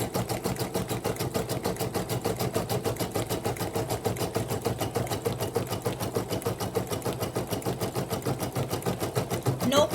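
A Brother SE1900 sewing machine stitches with metallic thread in a fast, even mechanical chatter of needle strokes that runs nonstop, close and fairly loud, with no talk.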